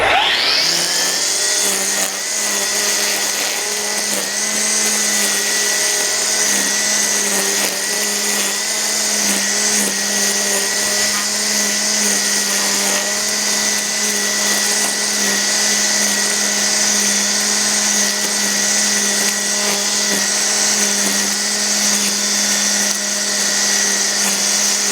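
An Ego battery multi-tool fitted with a string trimmer runs at full speed while edging a front lawn, a loud, steady whine with a constant pitch that continues close up and unbroken throughout, with no talking.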